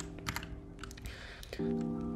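Close, quick keystrokes on a computer keyboard while editing text in Vim, a short run of clicks with no voice.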